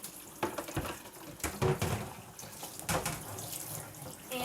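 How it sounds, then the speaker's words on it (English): Running water splashes and spatters as a plastic litter box is rinsed in a sink, a continuous near hiss with irregular bursts where the stream hits the box's back and sides. "Then I go ahead and rinse the backs and sides of the litter box."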